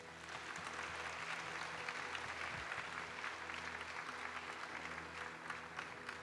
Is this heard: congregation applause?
yes